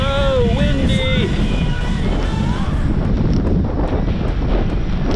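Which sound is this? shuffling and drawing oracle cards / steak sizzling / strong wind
strong wind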